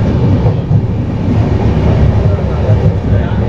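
Steady, loud rumble of the Rewa Express running on rails, heard from inside the carriage as continuous low-pitched wheel and track noise throughout.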